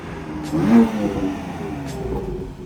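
A BMW F80 M3 engine with downpipes revs up briefly with a throaty rumble, then settles into a steady idle drone, fairly loud and nearby.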